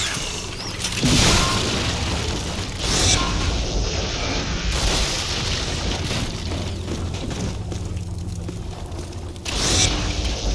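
A weapon fires in a Ghostbusters video game, booming blasts and whooshing bursts over a continuous roar of game sound effects, loud and sustained with no talking.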